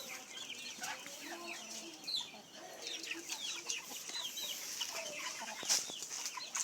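Jamaican fowl cluck and chatter in a yard, a rooster among several chickens making scattered, overlapping clucks and short calls at moderate distance, with faint background noise.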